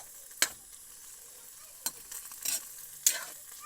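Kangkong and tofu stir-fried in a pan: a low sizzle with a few sharp scraping strokes of a utensil against the pan, close up and without talk.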